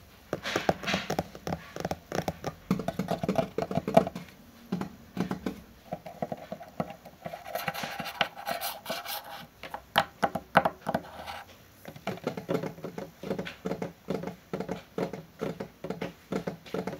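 Fingernails scratching and tapping for ASMR, quick soft clicky patters in uneven runs, close and fairly quiet, with brief pauses between bursts.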